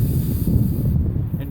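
Breath blown steadily onto a smouldering char cloth ember in a flint-and-steel fire start, a close, airy hiss mixed with outdoor wind rumble.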